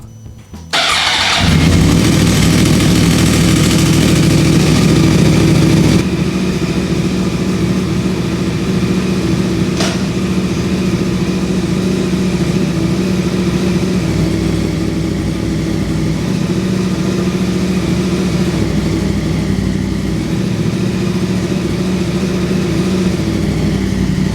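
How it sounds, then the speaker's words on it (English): A Yamaha R1 sport motorcycle cranks and fires up close by, then settles into a loud, steady idle that drops slightly in pitch and holds evenly for the rest of the clip. "let's crank her up and make sure that the gears engage like we expect them to"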